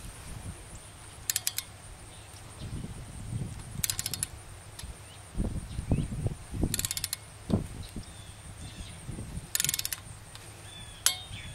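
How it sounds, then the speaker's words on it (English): A click-type torque wrench tightening bolts on a DIY field solar array mount gives several sharp, close metallic clicks in short bursts, between quieter ratcheting creaks and handling noise, with no talking. "So this is a click type torque wrench here that we're using. So I'll just turn this and we'll listen to it for the click."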